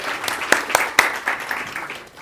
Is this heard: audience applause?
yes